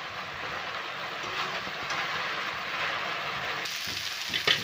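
Jackfruit goes into a spiced masala frying hard over a high gas flame, giving a dense, rushing sizzle. Soft clatters and knocks near the end mark the pan being stirred.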